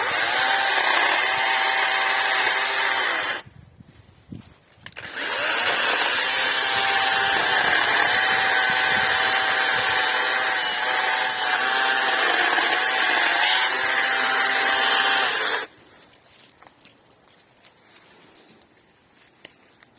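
WORCRAFT CGC-S40LiBA cordless brushless chainsaw cutting wood, a loud sustained motor whine in two long runs with a short gap between them, then quiet idle noise at the end, no talk.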